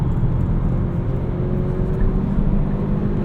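A 2018 Kia Stinger 2.0T with all-wheel drive under way, heard from inside: a steady, loud low engine and road drone with a faint whine on top, continuous and unbroken.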